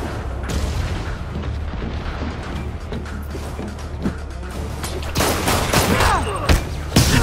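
Rocket blasts and booming impacts in Marvel's Spider-Man, a dense ongoing barrage of loud rumbling explosions and crackling debris that grows heavier and sharper toward the end.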